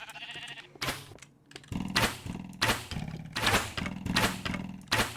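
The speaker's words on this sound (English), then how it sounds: "Hi, sheep. You shouldn't be here." Sheep in the video game Minecraft bleat again and again, loud and close, while sharp clicking and thumping game sounds run steadily underneath.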